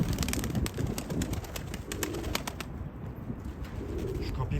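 White pigeons at their coop, with steady cooing and bursts of wing flapping over constant rustling, close and busy throughout.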